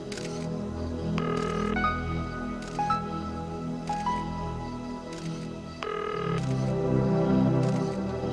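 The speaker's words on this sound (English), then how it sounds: "Dial Kimberly." Electronic phone-dialing tones from the 1994 horror film Brainscan, a string of distinct beeps at changing pitches spaced about a second apart over a steady hum of film soundtrack.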